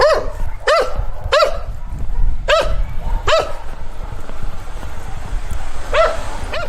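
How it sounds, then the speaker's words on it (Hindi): Several tied-up dogs in a Serbian village bark in short sharp bursts, a few yelps spaced across the stretch with a gap before a final pair, over steady outdoor background noise. "इतने सारे कुत्ते भौंकने लग गए अचानक"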